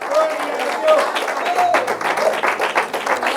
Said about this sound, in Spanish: Dele el aplauso.